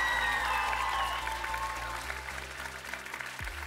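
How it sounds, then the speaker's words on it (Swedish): Audience applause at a cosplay contest at NärCon Expo in Södertälje, 2024: a dense, steady clapping over a musical background that tapers slightly toward the end. "Och varm applåd till dig igen."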